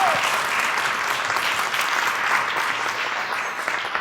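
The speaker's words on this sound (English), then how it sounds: "please join me in applauding Caroline" An audience at a keynote speech claps in sustained, even applause that fills the room from start to finish.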